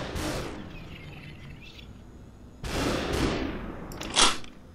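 Gunfire in the video game SuperHot: two bursts of loud, close shots, each fading quickly, followed by a short sharp crack near the end, with no talk.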